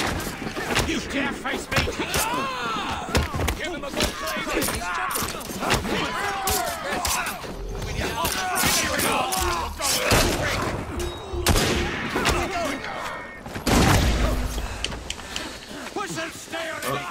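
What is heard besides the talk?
cannon salvo firing in Assassin's Creed Syndicate video game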